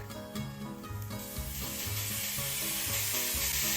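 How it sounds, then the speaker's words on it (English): Ground chuck beef, a pound of it, sizzling and crackling steadily in a hot pan after being dropped in, a broad frying hiss that builds and holds throughout under soft background music. "And now I'm going to drop in 1 pound of ground chuck"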